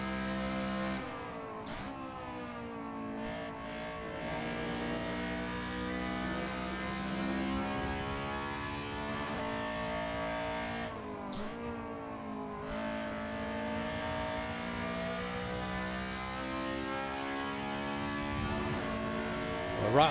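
Honda Civic Cup race car engine at Donington Park National circuit, held at a loud, steady drone with rising harmonics and sharp gear-change dips around 2 and 12 seconds, continuous and close throughout.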